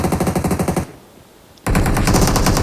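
Rapid automatic gunfire in a battle royale video game, loud and close, with an even machine-gun rhythm, a short pause, then another sustained burst.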